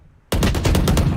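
Video game gunfire scoring a headshot: silence broken by a sudden loud, close burst of rapid shots, about five or six pulses in quick succession.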